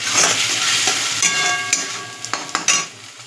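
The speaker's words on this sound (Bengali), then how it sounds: "এবার এটা একদম মিডিয়াম আঁচে রেখে কিছুক্ষণ নাড়াচাড়া দেবো।" A vegetarian paneer and coconut mixture sizzles in a pan on medium heat while a utensil stirs it, with several sharp scrapes and clinks against the pan near the end, close and moderately loud.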